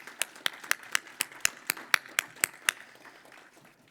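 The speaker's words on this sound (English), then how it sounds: "please just give yourselves a round of applause" A conference audience at a Nevada sustainability event claps in a short round of applause, about a dozen sharp, evenly spaced claps that are fairly close and clear before fading out.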